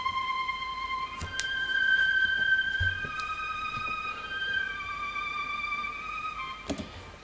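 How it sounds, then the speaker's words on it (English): String sound from the Drip kit in the Big Dreams plugin for a UK drill beat, sustained orchestral tones shifting pitch over a faint, gritty background with occasional soft knocks, fairly quiet throughout. "it's actually a string sound from the Drip kit"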